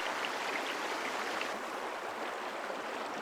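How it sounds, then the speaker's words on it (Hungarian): A river flows steadily as a soft, even rush of water heard from indoors through an open window, continuous and fairly faint. "Hallok mindig a folyót."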